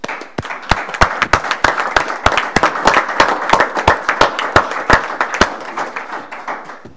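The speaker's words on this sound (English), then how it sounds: "I would like to give you a round of applause" A small group at a Brandon Planning & Zoning Commission meeting claps in a steady round of sharp, distinct hand claps lasting several seconds, close and fairly loud with no talking.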